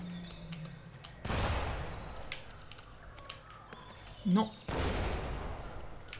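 Explosions in the mobile video game Badland, two sudden loud crackling blasts with noisy decays, separated by quieter game sounds, with a short spoken exclamation in between.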